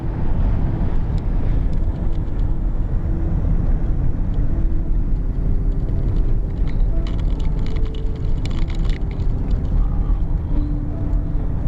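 Strong wind buffets a vehicle driving north of Truth or Consequences, New Mexico, a steady loud low roar with road rumble lasting throughout, plus faint scattered rattles and ticks.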